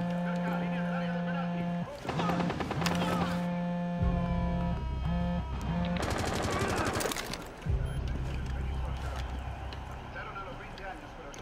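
Bursts of rapid automatic gunfire and single shots in Rainbow Six Siege on the Coastline map during a Team Deathmatch hostage match, loud and close, over constant game tones and hum.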